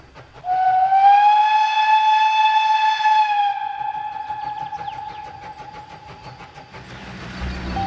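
A steam train whistle sounds one long, loud, steady blast that holds for about three seconds and then fades while it carries over open country, with the faint rattle of the rail cars underneath.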